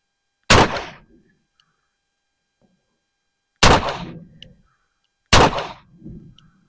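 Three loud, sharp Smith & Wesson 581 .357 Magnum revolver shots fired outdoors, spaced several seconds apart, each with a short echoing decay. No one speaks.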